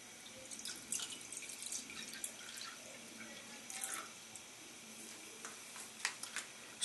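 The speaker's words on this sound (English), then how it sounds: "So my Jack Daniel's sauce, I'm starting with my water, my pineapple juice," Water and pineapple juice are poured in as the base of a Jack Daniel's sauce, making a soft, irregular trickling and splashing with small drips, fairly quiet and without talk.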